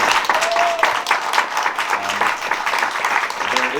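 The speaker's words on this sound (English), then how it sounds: "One more round of applause for everybody on this panel." A festival audience applauding a youth film panel, a dense, fairly loud burst of clapping lasting a few seconds, with a little talk mixed in.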